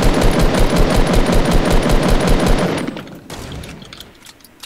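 Rapid automatic gunfire from the video game Fortnite rattles loud and close for about three seconds, then breaks off into quieter scattered shots and sparse background noise.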